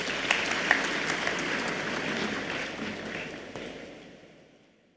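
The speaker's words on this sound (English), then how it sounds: "let's all give them a round of applause" A crowd at the Botswana Sport Awards ceremony applauds in a steady, dense wash of clapping that gradually fades to silence over five seconds.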